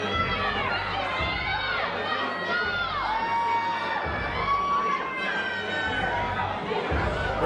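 A live wrestling show crowd cheers and shouts through a tag match, with high children's screams and whoops rising over a constant roar of the audience.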